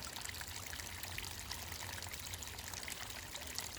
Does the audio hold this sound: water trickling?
yes